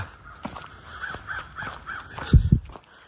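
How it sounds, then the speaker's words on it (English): Several crows caw in a quick series, fairly distant, in woods along the Appalachian Trail, followed by a couple of louder nearby thumps, with quiet outdoor ambience around them. "here's some crows calling"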